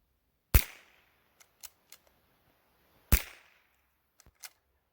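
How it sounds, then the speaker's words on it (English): Two loud, sharp gunshots from a tube-fed firearm fired outdoors, spaced a few seconds apart, each with a short echoing tail, followed by a few faint clicks of handling. "we might as well take a couple of shots."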